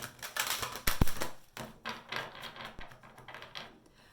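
Quick papery riffles and soft flicks of a deck of Romance Angel oracle cards being shuffled by hand, close up, in a few bursts with brief pauses between.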